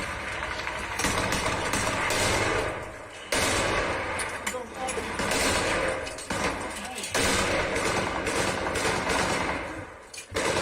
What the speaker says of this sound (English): That's a pretty loud gun right there.